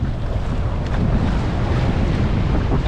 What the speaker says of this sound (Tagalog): Ano, lampas tao pa yung alon.